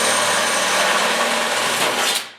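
Power drill boring 1/4 inch holes through a 1969 Ford Bronco quarter panel for plug welding, a steady, loud, close grinding whir that holds for about two seconds and then winds down, with no talk.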